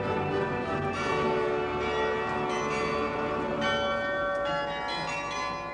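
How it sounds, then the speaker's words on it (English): Carillon bells chime from a Belgian cathedral tower, several bell strikes ringing out in succession with long overlapping resonant decay, a full metallic peal with no talk. "the kind you can still hear in the cathedral towers all over Belgium, where the carillon still plays"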